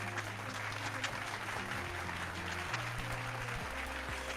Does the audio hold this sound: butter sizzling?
no